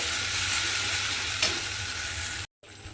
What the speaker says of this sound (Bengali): মশলাটা আমি এর মধ্যে দিয়ে ভালোভাবে একটু কষিয়ে নিয়েছি